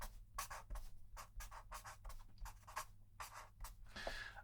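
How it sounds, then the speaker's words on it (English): Hand writing on paper, with a quiet, close, rhythmic run of short scratchy pen strokes and brief pauses between them, with no talking. "I'll just write that down as well."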